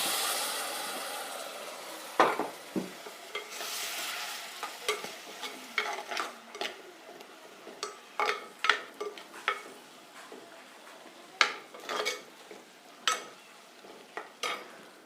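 A spoon scrapes and stirs masala in a pan after tamarind water is poured in, producing irregular clanks and scrapes over a soft simmering sizzle, close and fairly loud.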